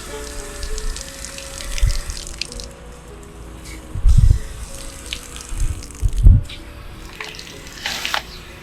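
Water hissing steadily from a garden hose spray nozzle set to its shower pattern, aimed at tomato plants in a garden, close by with a few louder surges.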